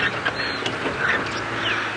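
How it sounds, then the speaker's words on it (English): Small birds chirp and call in the wild bush at sunrise on a safari drive, with short high calls scattered over a steady outdoor background and no talking. "They're just chirping."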